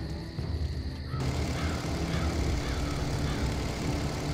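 Steady droning propeller engine of a WWI biplane in flight in Empire Earth, set over the Russian front in summer 1915, loud and continuous, swelling slightly after a brief quieter opening.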